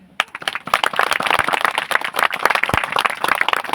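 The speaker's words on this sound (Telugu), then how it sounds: "ఒకసారి బిగ్గరగా చప్పట్లు కొడతారా?" A church congregation applauds loudly during a sermon, a dense, continuous burst of many hands clapping close by without a pause.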